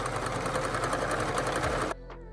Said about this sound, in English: I'm going to sew the seam allowance down to the lining